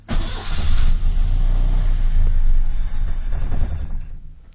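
Rebuilt engine of a 1970 Lancia Flavia Milleotto LX starting for the first time on full choke, cranking briefly and then catching into a loud, steady idle that holds close by before dropping away.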